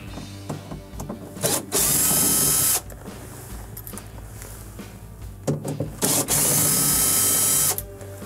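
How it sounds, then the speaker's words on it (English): Screws being backed out of the defrost control board in an Estate refrigerator with a Phillips screwdriver, two bursts of loud ratcheting clicks, each lasting about a second, separated by quieter handling noise, close up with no talking. "we are going to remove the 2 Phillips screws"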